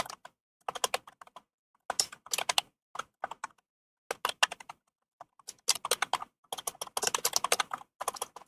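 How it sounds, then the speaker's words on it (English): Rapid bursts of clacking keystrokes from an old computer keyboard, fairly close, coming in irregular flurries separated by short pauses, with no voices. "That's what I get for using my old keyboard while my new one is being cleaned."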